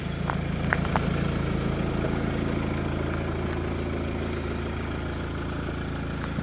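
Steady, low diesel idle from a Mercedes W213 E-Class with a 2.2 litre engine, a quiet even rumble with a few faint ticks and no speech over it.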